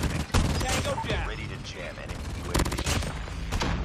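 Switchblade SMG fire in a Season 5 shooter video game comes in several sharp, rapid bursts of close, loud gunfire, with mechanical clatter between the volleys.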